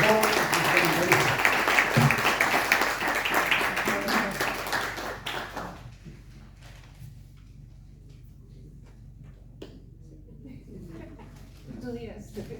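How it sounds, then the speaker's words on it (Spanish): Audience applause at a book presentation, full, loud clapping from a seated crowd that fades out around the midpoint, followed by sparse scattered claps and quiet room noise with faint voices. "un aplauso para mi joven comentarista"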